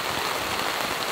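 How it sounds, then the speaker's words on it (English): Heavy rain pours steadily on a truck during an overnight storm while camping, a dense, constant hiss with no breaks and no voices. "As you all can hear, heavy rain has arrived. It is absolutely pouring right now."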